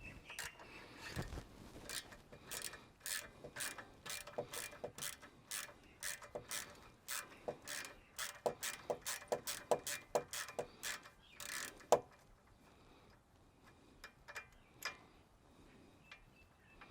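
Tool undoing a brake line fitting on a car during a CV boot repair, heard as a rapid run of close ratcheting clicks that speed up, then stop, followed by a few faint metallic taps.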